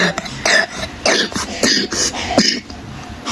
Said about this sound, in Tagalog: lala na yung ubo niya.